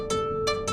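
Keyboard playing a brief fragment of Bach's fourth French Suite jig, with a sustained tone under two or three quick crisp attacks, close and alone.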